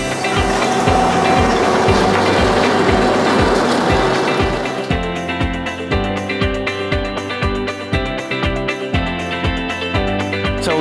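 Swietelsky RUS 1000 S rail renewal machine working on track: loud continuous mechanical clatter with a regular pounding beat and grinding, steady and close throughout.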